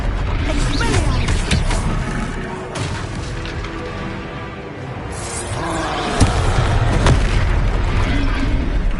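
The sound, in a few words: Expelliarmus spell blast in video game Hogwarts Legacy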